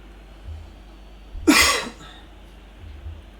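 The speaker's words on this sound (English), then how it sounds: "Apologies for the cough." One harsh, close cough breaks out briefly, loud against a quiet background of soft ambient hum during football video game commentary.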